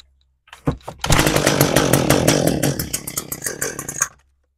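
An Echo HC-150 hedge trimmer's small two-stroke engine, choke on, is pull-started: a few short cranking pulls, then a loud, buzzing idle for about three seconds that sputters and cuts out.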